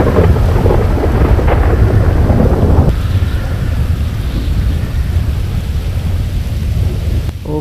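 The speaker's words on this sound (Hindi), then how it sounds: "अरे यार, ये तो बिजली भी कड़क रही है।" Thunder rumbles loudly over steady, dense rainfall in a stormy Los Santos scene in the video game GTA 5, with a continuous wash of rain and a deep roll of thunder throughout.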